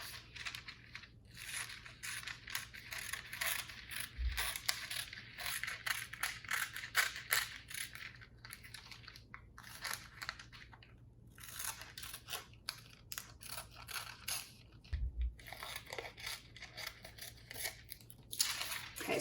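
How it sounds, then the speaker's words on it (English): Scissors snip through a square of wax paper in a steady run of close, crisp cuts with small mechanical clicks of the blades, with no talking. "go ahead and cut it out."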